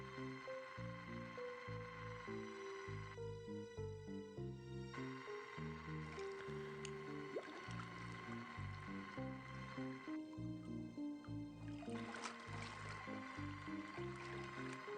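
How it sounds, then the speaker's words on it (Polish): Sea ambience from the video game No One Lives Forever: soft, rhythmic washes of water lap and slosh over and over, faint and steady, blended with a tonal game music bed. "Piękny dźwięk morza."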